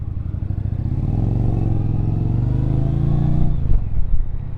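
A 2025 Indian Challenger motorcycle on its stock exhaust gives a steady, loud, low engine rumble that swells as it is revved, then drops off with a few uneven throttle blips near the end.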